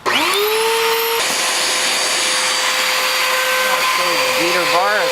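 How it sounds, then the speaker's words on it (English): Dirt Devil upright vacuum with a jammed beater bar switching on, a loud steady motor whine that rises in pitch and holds, with shifting tones near the end as a voice talks underneath. "I'm going to turn it on and show you that there is suction out of the main hose, but the beater bar is jammed."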